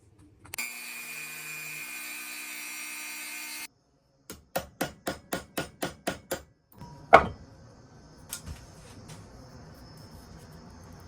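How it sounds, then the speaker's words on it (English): Grinding down the pin head on a vintage Schrade pocket knife: a steady high whine of a power tool, then a series of about nine sharp rhythmic strikes, followed by a single loud knock and quieter clatter. "we're gonna grind that head down and then take this knife apart"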